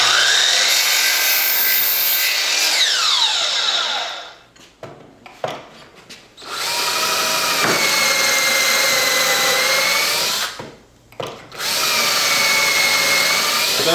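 Wooden pieces for a bathroom wainscot face frame being cut with a power tool, loud sustained whining runs with falling pitch sweeps, broken by two short pauses with small clicks and knocks.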